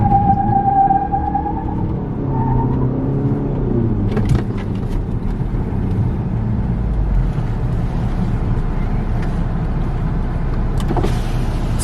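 A diesel car at a drag racing event holds steady at the start line with its engine revving, a continuous loud, low rumble that rises and falls slightly, with brief mechanical clicks and whines over it.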